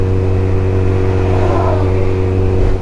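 A motorcycle engine pulls hard under acceleration, a loud, steady drone with strong low harmonics and wind rush, continuous throughout with no voices.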